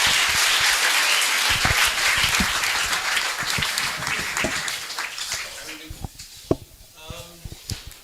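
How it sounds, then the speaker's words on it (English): An audience at a bench unveiling applauds with a steady wash of clapping that gradually thins into scattered individual claps, and a voice speaks near the end. "Can we give a round of applause to Ras Silas Motse?"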